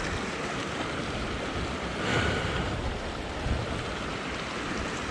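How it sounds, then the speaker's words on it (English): Water at an off-road motorcycle water crossing in Arizona on a Royal Enfield Himalayan trip, a steady broad rush and wash like flowing water with wind noise, continuous and fairly loud with small surges. "We are at a water crossing here."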